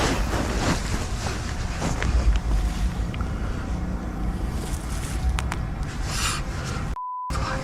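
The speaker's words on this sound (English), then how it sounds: "I think it's just wind." Wind gusts through a forest around a night campsite, a rough, blustery rush rising and falling close to the microphone, with faint creaks and a short electronic beep near the end.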